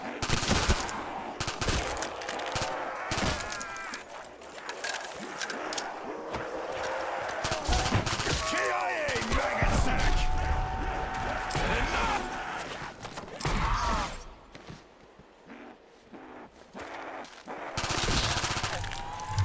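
Rapid bursts of automatic gunfire and single shots in the Super Nazi Bros 64 custom zombies video game, loud and dense, crackling nearly nonstop with brief gaps and a short lull near the end.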